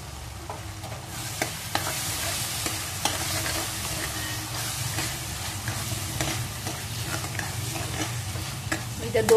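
Chopped tomatoes stirred into an onion masala frying in a pan, with a steady sizzle and repeated scraping strokes of a spoon running throughout, loud and close, no talking.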